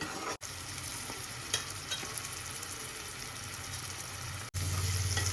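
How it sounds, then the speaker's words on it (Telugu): Tomato pieces tipped into masala frying in a pan for an egg curry, with a steady close sizzle and stirring scrapes running throughout, two very brief dropouts, and a louder hiss near the end. "ఇందులో టమాటా ముక్కలు వేసేసుకోవాలండి"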